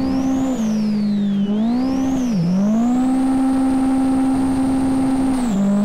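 Car engine in the racing game Live for Speed, a loud steady drone whose pitch dips and rises with throttle and gear changes, held high for a long stretch before easing off near the end.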